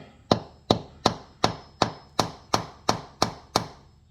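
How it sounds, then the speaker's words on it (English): Ten evenly spaced strikes of a soft rubber mallet, each a sharp knock with a short ringing tail, repeated at a steady rhythm close to the microphone during car repair work. "And then you use a soft hammer of some sort."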